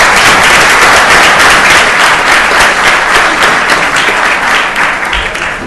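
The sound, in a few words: audience applause at city council meeting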